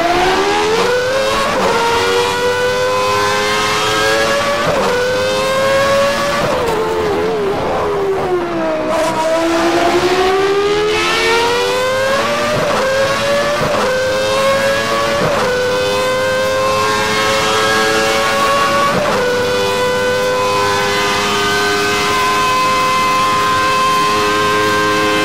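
A 1992 McLaren F1 car races in a stock car video game, its engine screaming loud and high, rising through gears, dipping under braking and climbing again in repeated sweeps with no speech.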